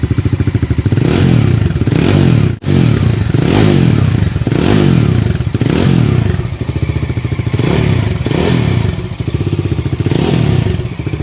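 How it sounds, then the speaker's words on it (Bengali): A 400cc motorcycle engine with a dual-barrel exhaust idles loudly and close up, its deep pulsing thrum rising in a series of repeated revs, broken once by a brief dropout. "আপনাদেরকে একটু ইঞ্জিনের সাউন্ডটা শুনিয়ে দেখাই।"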